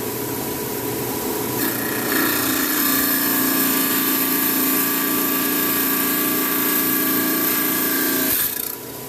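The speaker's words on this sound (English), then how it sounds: "We're going to use a trim saw. We're going to cut out a cabochon tonight." Lapidary trim saw slicing through rock to rough out a cabochon, a steady loud grinding whine that holds constant for most of the stretch before cutting off near the end.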